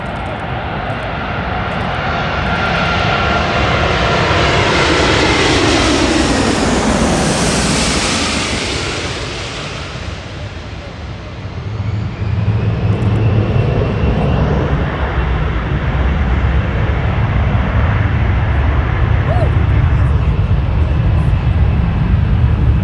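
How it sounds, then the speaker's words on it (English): An Emirates Airbus A380, the huge double-deck airliner, lands at LAX after a long flight from Dubai. Its loud jet roar swells and sweeps past, then drops into a sustained rumble of engines and reverse thrust as it rolls out on the runway. "Beautiful landing of a beautiful aircraft, Airbus A380, the world's largest passenger aircraft."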